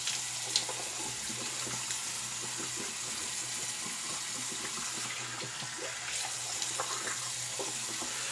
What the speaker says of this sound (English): So let's cold water rinse.